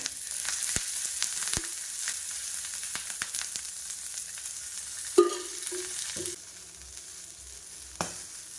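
Green chilies roasting in a pan with a little oil for Maharashtrian thecha, a close continuous sizzle with sporadic pops and sharp spatula scrapes, quieting near the end, no voices.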